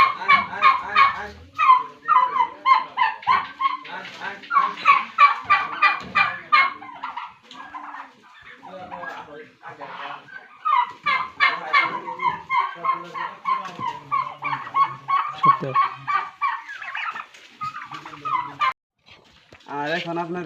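Two newly hatched white turkey chicks keep up close, loud, rapid peeping and chirping calls in dense bursts throughout, with a few brief pauses.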